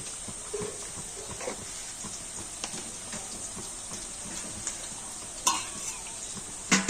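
Chili powder and turmeric sizzle and hiss steadily in a hot pan for a Bengali prawn and potato curry, with occasional scraping stirs and a couple of sharper clanks near the end.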